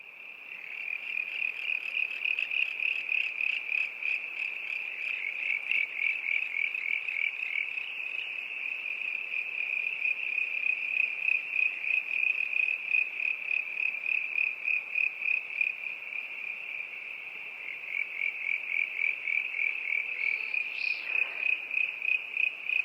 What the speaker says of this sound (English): recorded a similar community of Ewing's tree frogs